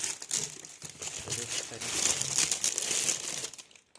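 Cardboard packaging of a VR Box Case 4U 3.0 Bluetooth headset crinkles and rustles as it is handled and turned over, close and fairly loud, with someone talking over the handling.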